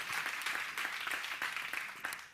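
An audience claps and applauds steadily at an award ceremony for vocational training entrepreneurship prizes, a dense, fairly faint wash of clapping lasting a couple of seconds with no speech.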